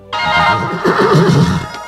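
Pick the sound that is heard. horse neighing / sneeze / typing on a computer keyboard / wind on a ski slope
horse neighing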